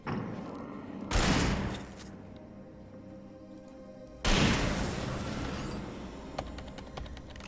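Gunfire in the video game Alan Wake: two loud, close blasts a few seconds apart, each with a long rumbling tail that fades under a steady background drone.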